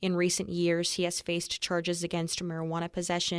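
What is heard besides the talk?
No distinct noise like a dog, phone or traffic.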